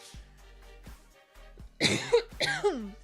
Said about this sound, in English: I usually try to mute before I cough,